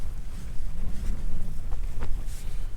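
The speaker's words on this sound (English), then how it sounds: "You can probably hear the wind now." Wind blowing outside a tent pitched on a mountain during a stormy wild camp, a steady low rumbling roar with gusty buffeting and occasional fabric flaps, close and continuous with no talking.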